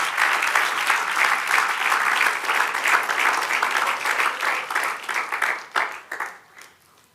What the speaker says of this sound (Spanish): Sí, dale un aplauso al Señor